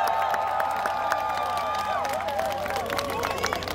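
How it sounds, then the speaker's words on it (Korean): Outdoor festival crowd claps and cheers steadily in front of a concert stage at the Gimhae Hanwoo beef festival, a dense continuous wash of applause lasting throughout, with sung or spoken tones faintly riding over it. "자 다시 한번 박수 한번 쳐볼까요?"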